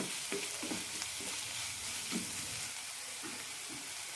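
Chopped vegetables for ragi upma cook in a pan with a steady, soft sizzle and a few light stirring scrapes, close and moderately quiet, with no talking.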